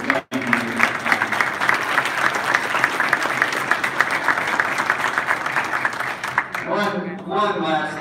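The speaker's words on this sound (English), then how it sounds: "a round of applause for all of you" A high school athletics audience gives steady applause, dense clapping that fills the space for several seconds before fading, with a voice coming in near the end.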